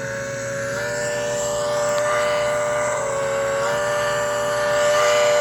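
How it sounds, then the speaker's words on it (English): Whistle of a 1950s-era American Flyer model train engine run by a Rail Pro LM-3S control, a sustained steam-style whistle tone held for several seconds, near and fairly loud from a tiny speaker, with no voices. "And we have a whistle."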